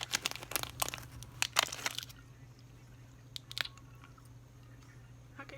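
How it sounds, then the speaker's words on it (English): A person chews crunchy food close to the microphone, a burst of loud crisp bites and crunches for about two seconds, then quieter occasional chewing over a low hum. "How can I hear you chewing?"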